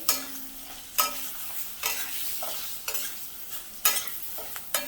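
Green chillies stirred in a pan over a low gas flame with fennel powder and salt, as for dahi mirchi: a soft steady sizzle broken by about six sharp scraping spatula strokes at roughly one-second intervals, close and without talk.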